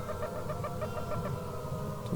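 A rooster in ARK Survival Evolved gives a series of rhythmic clucking calls over a low background hum, repeated evenly across a couple of seconds, with a brighter call at the very end.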